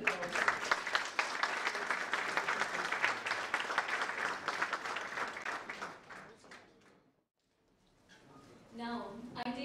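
An audience at a book launch for Tears of Jhelum gives a dense, loud round of applause to welcome a guest. The clapping lasts about seven seconds, then fades out, and a voice starts speaking afterward.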